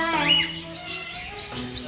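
Small cage birds at a Lahore bird farm, star finches and cockatiels with pigeons kept alongside, give short high chirps and whistled calls, close and fairly busy.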